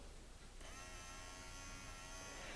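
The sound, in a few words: toy train electric motor running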